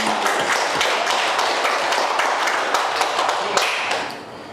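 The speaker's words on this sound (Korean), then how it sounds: "박수를 하나님께" A church congregation claps together in praise, a loud dense wash of many hands that holds steady and then tapers off near the end.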